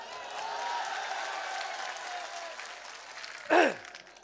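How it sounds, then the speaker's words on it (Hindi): An audience at a live ghazal performance applauds steadily for several seconds, the clapping dense and sustained before tapering off, followed by a brief louder vocal exclamation. "पहले ये जोरदार ताली बजाओ"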